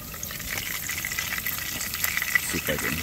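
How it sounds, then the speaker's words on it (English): Bacon sizzles and crackles in a hot pan while camping in a hot tent at Misery Bay, a continuous bright hiss with scattered pops, fairly soft and close. "Well, the bacon's on and sizzling away."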